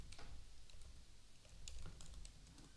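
Quiet computer keyboard typing while entering HTML and CSS code: scattered soft key clicks in a short, uneven burst, faint and close.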